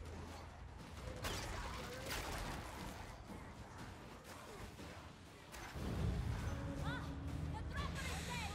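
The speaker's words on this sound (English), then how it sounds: "Okay, elevator's here." Grinding, creaking elevator machinery arriving in Warhammer 40,000: Darktide, a continuous mechanical rumble with ratcheting clanks that swells louder toward the end.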